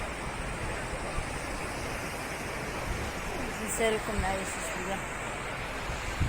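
Sea waves wash onto a beach in a steady broad roar with gusty surges, heard under someone speaking Arabic.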